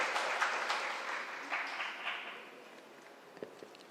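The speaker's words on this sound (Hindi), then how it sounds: "आप सबकी भरपूर तालियों में" An audience at an event honoring a professor reciting a naat applauds, dense clapping that starts full and gradually fades to scattered claps.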